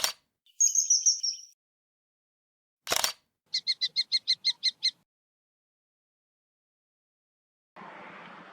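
A kingfisher at Spurn Nature Reserve on the Yorkshire coast gives a short high piping call, then after a pause a run of about eight rapid evenly spaced shrill notes, clear and fairly close against near silence.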